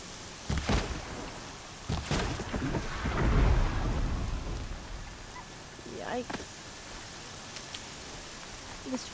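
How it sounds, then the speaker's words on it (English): Rain and rolling thunder in the open-world game Horizon Zero Dawn: a steady rain hiss throughout with several loud thunder cracks and a long low rumble, and faint speech in places. "This rain makes it 10 times more difficult."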